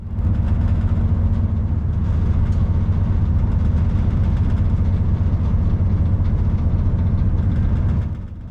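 A Grand Central train speeds through the North London suburbs on a cold January morning, heard from inside as a loud, steady low rumble and roar that eases slightly at the end.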